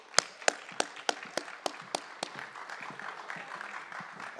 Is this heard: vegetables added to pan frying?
no